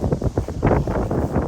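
Strong wind buffets the microphone in gusts during a sub-zero blizzard outdoors, a loud irregular roar with no other sounds standing out.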